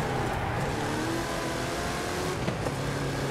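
A car engine drones and revs steadily while racing on a Hot Wheels track in the video game Forza Horizon 5, loud and continuous with slight pitch shifts and no speech.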